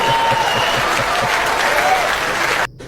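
A comedy club audience breaks into loud, dense applause at a stand-up show, a sustained wash of clapping that cuts off abruptly near the end.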